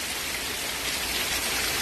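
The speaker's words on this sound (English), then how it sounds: "It's raining hard." Heavy summer rain pouring down in Missouri, a steady, loud, continuous hiss of dense drops with no pauses, close by and alone.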